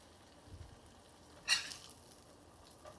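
Eggs sizzle faintly in a cast iron pan, a quiet steady frying hiss with one brief louder crackle and a spatula scrape, heard up close and without voices.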